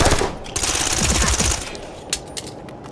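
Rapid pistol fire in Ghost Recon Future Soldier, a dense run of sharp, loud shots in quick succession that thins into a few isolated cracks near the end.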